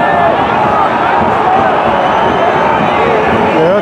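Football stadium crowd at a Darmstadt 98 versus Heidenheim match, a dense continuous roar of voices with whistles and chanting, loud and sustained with no break.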